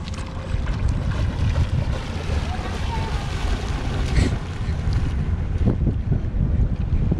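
Strong wind buffets the microphone in a constant roaring rumble, with water sloshing nearby and a voice faintly under the noise.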